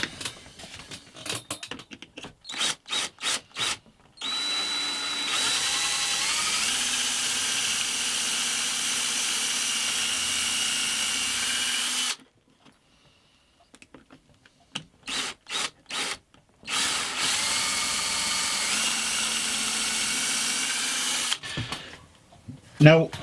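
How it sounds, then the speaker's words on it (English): A power drill bores dowel holes into wooden seat back slats for an outdoor garden seat, two long steady whirring runs of several seconds each, near and loud, separated by short clicks and trigger blips. "I've marked out on the seat back lats where I'm going to actually put the dowels, so I'm going to get these drilled in now"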